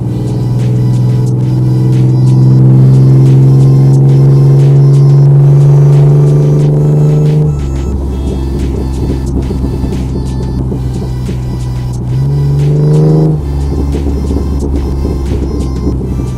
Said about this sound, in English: Let's see if the exhaust wants to cooperate today.